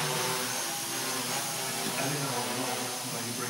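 Mikrokopter ME v2.1 multicopter flying with throttle straight up, its motors giving a steady, dense whirring buzz that holds throughout, fairly close.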